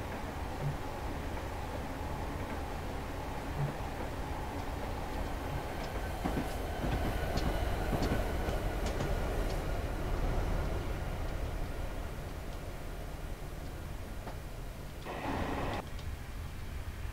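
A freight train rolls along the Sherman Hill route in Train Simulator 2019, a steady loud rumble of wheels and wagons with faint clanks, holding constant throughout and briefly swelling toward the end.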